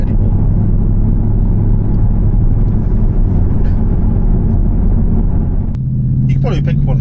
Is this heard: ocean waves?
no